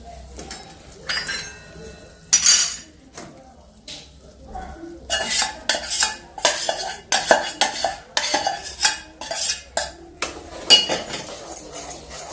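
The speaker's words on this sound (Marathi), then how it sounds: "एकसारखा असा हलवत राहायचा आहे घट्ट होईपर्यंत" A besan mixture with poured-in sugar syrup is stirred in a metal pan, the spoon scraping and clinking against the sides in irregular bursts, close and fairly loud, with a voice talking faintly underneath.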